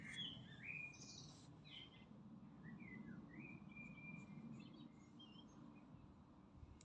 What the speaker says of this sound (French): Je vais vous laisser écouter les petits oiseaux.